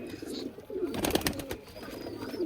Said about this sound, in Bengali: এই যে আমার চট কবুতর মাঝখানে এই যে ডাকতেছে